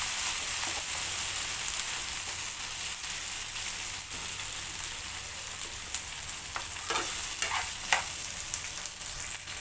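Spices and green chilies frying in hot oil for mango pulihora make a continuous crackling sizzle, with spoon stirring clattering in bursts near the end, close and fairly loud.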